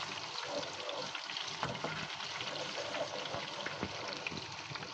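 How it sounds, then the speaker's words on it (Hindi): Onion, dried red chillies and cumin fry for a tadka, giving a faint, even sizzle with light crackles and occasional soft stirring scrapes, and no talking. "ये सब इसमें शामिल करेंगे, इसको अच्छे से फ्राई करेंगे"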